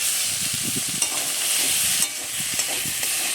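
Quartered pointed gourd (potol) sizzling in a pan and being stirred, a continuous frying hiss broken by a few scraping knocks of the spatula, close and fairly loud with no talk.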